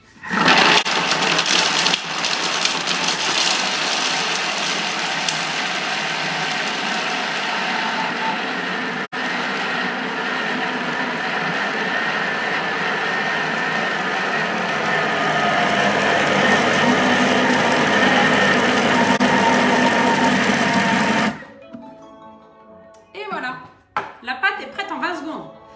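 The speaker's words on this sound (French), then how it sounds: "Et on va lancer les couteaux, donc là 20 secondes vitesse 6." A kitchen robot's blades spinning at speed 6 for about 20 seconds, mixing pastry dough; a loud, steady whirring drone that stops abruptly, followed by talking.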